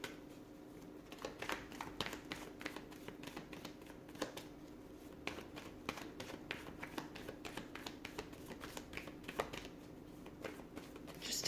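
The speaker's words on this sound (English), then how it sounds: "So I'm just going to pull a few more cards." Tarot cards are shuffled and drawn in a steady run of soft, close flicks, riffs and taps lasting several seconds, quiet and with no one speaking.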